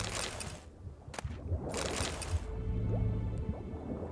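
Water sloshing and squelching in The Witcher 3: Wild Hunt, soft wet splashes and gurgles close by, uneven and brief, with no voices.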